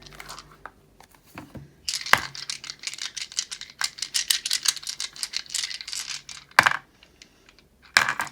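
Dice roll and rattle during a tarot reading, a quick burst of clicking clatter followed by scattered knocks and a few sharp taps, close and fairly quiet with no talking.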